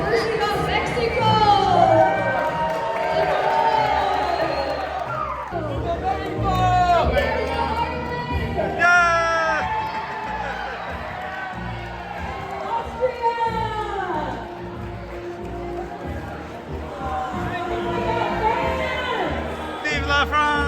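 Festive crowd at a Winter Olympics opening party parade of nations, cheering and whooping for Mexico, a dense mix of shouts, excited voices and children calling out, loud and sustained with rising bursts throughout.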